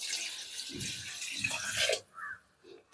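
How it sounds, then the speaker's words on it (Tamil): Water is poured from a tumbler into a large pot of chicken biryani, a close, splashing gush lasting about two seconds, followed by a few faint drips and clinks. "இதில் தண்ணி ஆட் பண்ணிடலாம்."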